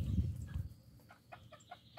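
Farm chickens cluck softly in a series of short, fairly close calls. A low rumble opens the clip, with no talking.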